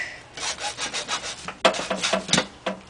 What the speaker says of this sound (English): Up next, cut your PVC pipe